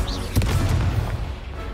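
An Incendio fire spell in Hogwarts Legacy bursts with a sudden whooshing boom early on, then a dense roaring rumble that fades out within about a second.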